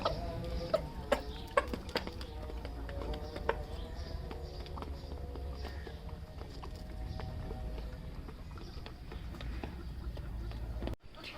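Aseel chickens, including a young rooster, cluck faintly in a backyard coop against a low steady hum, with a few sharp taps near the start and a sudden thump near the end.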